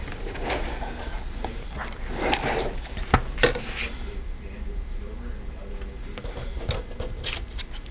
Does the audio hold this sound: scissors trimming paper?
yes